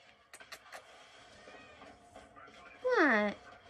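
A cat lets out one clear, drawn-out meow near the end, loud and close, after a stretch of quiet rustling and light tapping indoors.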